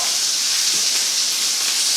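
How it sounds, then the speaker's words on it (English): Salted onions sauté in a hot pan with a loud, unbroken hiss that holds steady throughout. "Into my onions I just sprinkle a little salt to saute the onions."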